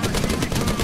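A tank's main gun firing in the War Thunder video game, a dense burst of loud booming reports packed close together with no talk over it.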